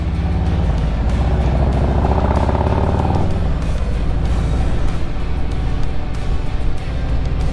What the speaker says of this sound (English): Ferrari or a Lamborghini getting pulled off that truck over there